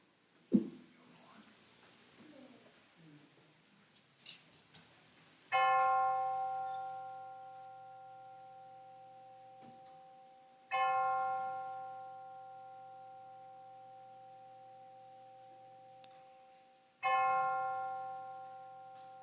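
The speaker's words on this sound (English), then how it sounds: "now we will have the ringing of the bell." A single large bell strikes three times at slow, even intervals during a church service, each toll ringing out clearly and fading slowly in a quiet room.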